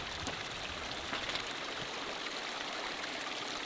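A mountain river in the Himalayan Spiti and Lahaul region flows below a road, a steady broadband rushing wash heard from nearby, constant and even with no voices.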